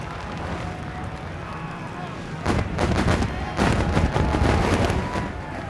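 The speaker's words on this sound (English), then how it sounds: "Fireworks above heads" Fireworks bursting overhead at the start of a NASCAR Craftsman Truck Series race at Indianapolis Raceway Park, with a run of loud, rapid booming cracks over a constant crowd and engine roar.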